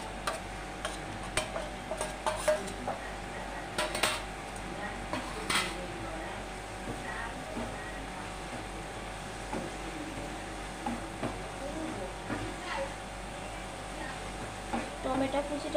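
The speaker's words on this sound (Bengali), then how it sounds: "মশলাটা কষে এসেছে, এবার আমি টমেটো কুচিটা দিয়ে দিচ্ছি।" Chopped tomato tipped into a spice paste frying in a pan for a red lentil kalia, with steady sizzling and clinks of a utensil scraping and tapping the pan throughout.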